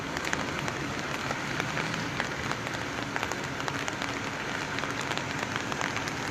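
Heavy rain falls steadily, a dense, even patter on surfaces that continues without pause throughout, with no voices.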